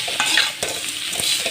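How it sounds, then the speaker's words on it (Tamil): Pumpkin pieces sautéing in a pan for buttermilk curry, a loud steady sizzle with repeated stirring scrapes close by; no voices. "அது நல்லா வதங்கட்டும்."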